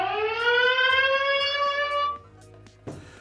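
A Fossibot DT2 rugged tablet sounds its alarm as a loud, rising electronic siren tone lasting about two seconds, then it cuts off and a short knock follows.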